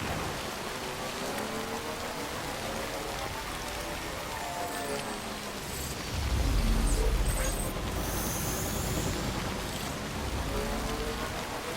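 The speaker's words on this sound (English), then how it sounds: "it is raining so hard" Heavy rain in the video game Death Stranding pours down steadily, a dense hiss that swells louder partway through, with no voices over it.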